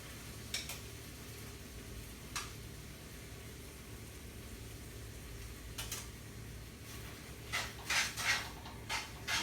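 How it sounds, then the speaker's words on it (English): Cooked ramen noodles and their liquid tossed into a saute pan for cacio e pepe, giving a low steady sizzle with a few sharp clinks of utensils and pan, busier and louder near the end. "make sure that you get as much of the liquid out of here as you can as it goes into your saute pan"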